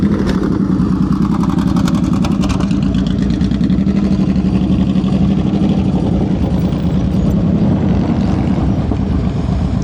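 A motorcycle engine drones steadily under light, held throttle during slow-speed riding practice outdoors in Illinois, loud and continuous with a slight rough pulsing, no voices over it.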